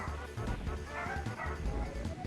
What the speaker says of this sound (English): Sorry for the puppies barking in the background.